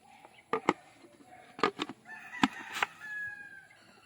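Backyard chicks being fed give scattered sharp calls and squawks, a few close and loud against a quiet background, with a longer drawn-out call near the end.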